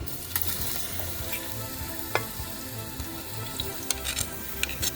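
Onion and chili fry in a pot of hot ghee and canola oil with a steady close sizzle and crackle, plus occasional light taps and stirs.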